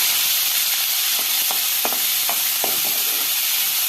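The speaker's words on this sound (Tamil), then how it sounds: "இப்போ நம்ம சின்னதாக கட் பண்ணி வச்ச வெங்காயத்தை சேர்த்துக்கலாம்." Chopped onions frying in hot oil for chicken chops, a steady loud sizzle with scattered crackles and pops, no talking.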